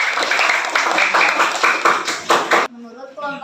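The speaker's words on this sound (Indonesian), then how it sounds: "tepuk tangan untuk kelompok kita" A class claps for a student group in a school lesson, a brisk run of hand claps for under three seconds before a voice starts talking.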